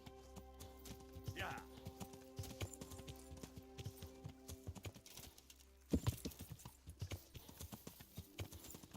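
Horse hooves clip-clop steadily while riding in Kingdom Come: Deliverance, a medieval game, the rhythmic thuds running through most of the stretch with a harder burst near the end, under background game ambience and occasional talk.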